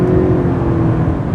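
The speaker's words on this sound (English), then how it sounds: "you listen to that engine and realize that this is a hybrid" A Toyota Avalon Hybrid's engine hums steadily while driving, a continuous low whir with road noise, close and fairly loud without any voices.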